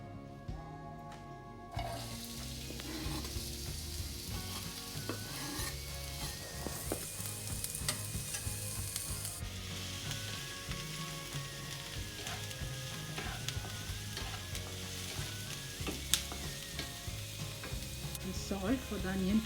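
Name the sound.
onions frying in oil for aloo paratha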